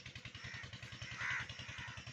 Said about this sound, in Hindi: आपको पीटर इंजन की आवाज़ आ रही होगी।